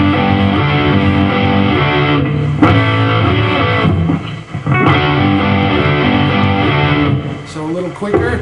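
Distorted electric guitar plays a riff with hammer-ons, a dense, loud sustained rhythm part with chords and brief breaks, sounding alone and close.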